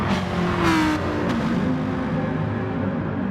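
A four-wheel-drive Subaru race car in a racing video game drones steadily at high revs, with a brief rising whine early on and a continuous engine roar heard close up.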